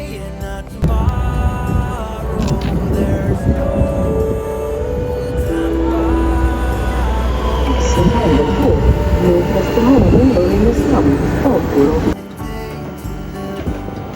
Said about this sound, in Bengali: তো আমি যে ট্রেনে করে যাব সেটা চলে আসছে